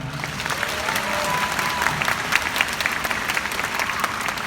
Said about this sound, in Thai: ขอเสียงปรบมือให้กับ ทีมคอริโอด้วยครับ